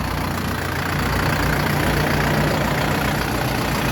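A 50-horsepower Orion JD504 tractor with a cab and a KM 495 engine drives up into a truck, its motor idling and chugging in a steady, loud, close drone throughout.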